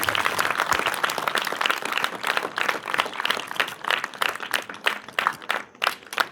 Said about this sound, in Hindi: जरा बच्चों जोरदार तालियां बजती रहें।